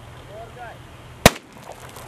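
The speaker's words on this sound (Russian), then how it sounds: "самым экстремальным испытанием стала закладка взрыв-пакета с последующим подрывом" A blast packet detonates during a military-patriotic youth competition in the Anapa region, giving one sharp, loud, close bang that cuts off abruptly, with a little quiet outdoor background before and after.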